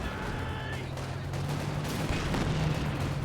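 A red flare artillery barrage in a Brotherhood of Steel strategy game match, heard as a dense, fairly faint rumble of distant impacts under a steady low drone, with no clear single blasts.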